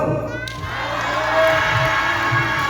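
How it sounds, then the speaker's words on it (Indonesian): A crowd of children and adults at the Saloka theme park in Semarang shout together in one loud, sustained cheer that starts abruptly and carries on for a few seconds. "Semuanya teriak Saloka yang kenceng ya."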